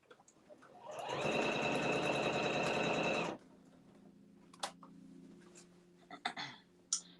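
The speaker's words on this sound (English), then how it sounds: "it's so quiet that I wasn't sure I was actually stitching" A quiet sewing machine stitching fabric in one smooth, steady run of about two seconds, then stopping, followed by faint clicks and handling noises as pins are pulled out.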